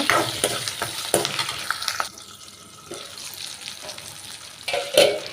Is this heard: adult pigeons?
no